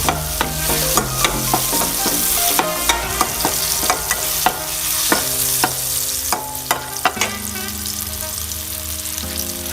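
Garlic stir-fries in a hot pan with a constant sizzle, punctuated by frequent rhythmic scrapes and clanks of a spatula tossing it, loud and close with no talk.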